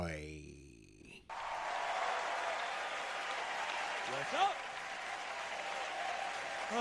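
Audience applause for stand-up comedian John Roy, a sustained wash of clapping that swells and holds for several seconds after a brief spoken line at the start.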